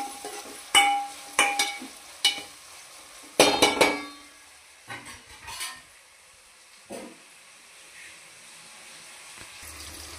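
Chopped onions and tomato frying in a pan, a spatula clattering in several sharp scrapes and knocks over a faint sizzle, then quieter stirring, nearby with no talk.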